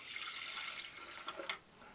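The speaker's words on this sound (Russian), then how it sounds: "Наливаем воду." Water pours from a tap into an electric kettle rated 1850–2200 W, a steady close splashing stream with brief louder gurgles near the end before it eases off.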